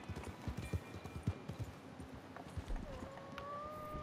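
Horse hooves galloping in the Red Dead Online video game, a quick rhythmic clip-clop of repeated thuds over soft ambient game sound.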